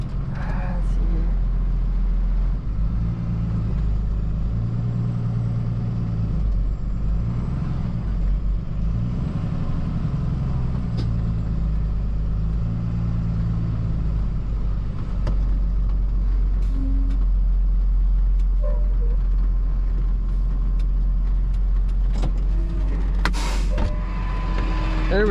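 Heavy wrecker tow truck engine rumbling steadily at close range while working a wheel lift to pull a Subaru out of trees, with air-brake hiss and clanks, with people talking over it.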